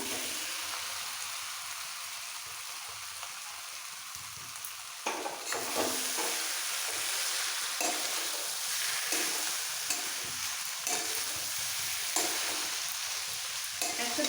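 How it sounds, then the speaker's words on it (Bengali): Potatoes, cabbage and rohu fish head sauté with spices in a pan for a Bengali ghonto, a steady frying sizzle with stirring scrapes that grow louder and busier partway through, with no voices. "আলুর সাথে মশলা কষিয়ে দিয়ে দেবো বাঁধাকপি আর মাছের মাথা"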